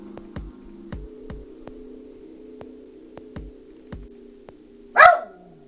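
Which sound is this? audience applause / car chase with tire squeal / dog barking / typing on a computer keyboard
dog barking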